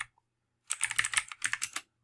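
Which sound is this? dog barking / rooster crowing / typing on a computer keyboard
typing on a computer keyboard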